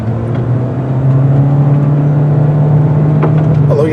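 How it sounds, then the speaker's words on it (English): A Toyota Corolla Cross Hybrid accelerates with a steady, even drone from its CVT, the engine note holding one pitch inside the cabin at a loud, constant level. "you have to listen to that droning of the CVT"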